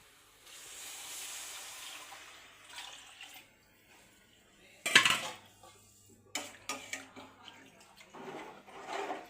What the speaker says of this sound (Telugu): ఇదిగోండి 3 లోటాలు 3 గ్లాసులు నీళ్ళు తీసుకున్నాను. ఇదిగోండి పోసేస్తున్నాను చూడండి.